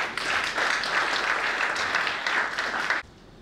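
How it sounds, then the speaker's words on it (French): A crowd at an awards event in Côte d'Ivoire applauds in a thick, even wash of clapping that holds steady for about three seconds, then cuts off abruptly into quiet room tone. "Applaudissements, je vous prie"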